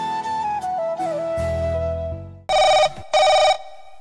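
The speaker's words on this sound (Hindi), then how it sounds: "बेल जा रही है, अभी उठाएगा।" Ringback tone of a phone line on an outgoing call, heard as two loud, even bursts of ringing with a short gap between them, following a stretch of background music with no talk.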